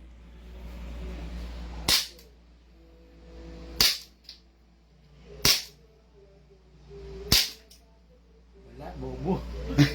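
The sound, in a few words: gunshots from CZ Shadow 2 pistol firing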